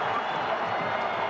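Dense crowd roar and cheering fill Michigan Stadium during a college football game between Michigan and Michigan State, a steady wall of sound from a huge stadium crowd with no distinct voices standing out.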